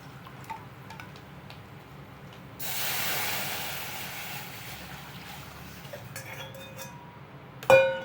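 Tomato rasam liquid poured into a hot pan gives a sudden sizzling hiss that fades gradually, followed by a few faint clinks and a sharp knock at the end.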